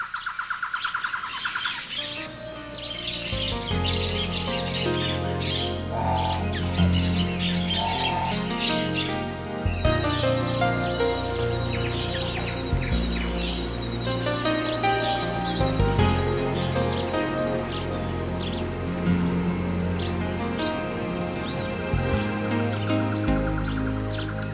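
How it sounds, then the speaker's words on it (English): Birds chirp and sing in the Amazon rainforest over a thick, continuous layer of background sound, calls overlapping steadily throughout. "I'll let you listen to the birds and let you experience nature as I experience it here in the Amazon."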